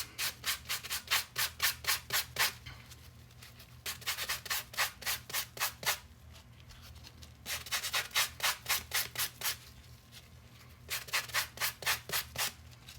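Sandpaper rubs back and forth over a painted earring in quick rhythmic strokes, four separate bursts of about a dozen strokes each, close and crisp, with short quiet pauses between and no talking.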